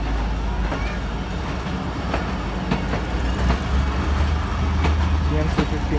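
Passenger train pulling through Mandi Bahauddin railway station in Pakistan, a steady low rumble with rhythmic wheel clicks and rattling carriages throughout, under a voice.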